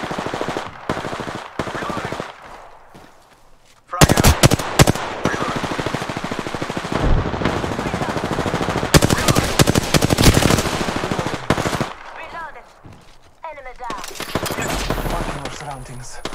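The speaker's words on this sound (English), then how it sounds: "Firing. I am taking fire." Rapid automatic gunfire in a video game firefight, long loud bursts of shots with short gaps between, close and dominant with faint voices.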